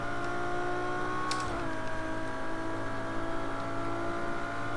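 A LaFerrari engine pulling hard in the racing game Project Cars 2 on the Algarve circuit in Portugal: a continuous, fairly even, high-revving motor drone, loud and alone, with no speech.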